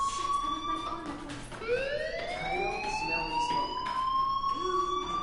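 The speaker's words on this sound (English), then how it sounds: "do you hear that fire alarm?" A fire alarm in Life is Strange rings as a steady high electronic tone, with a rising, siren-like sweep cutting in partway through over a quiet background.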